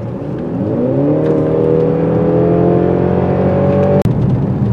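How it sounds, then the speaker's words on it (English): A Mercedes GLC 300 Coupe, 2024 model, with its four-cylinder engine pulling hard up a mountain grade; a loud, steady engine drone rises gradually in pitch, then breaks off with a sharp click near the end. "This little four-cylinder engine might be short on horsepower, but not short on torque."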